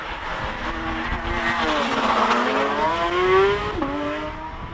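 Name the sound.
Porsche GT3 RS race car on hill climb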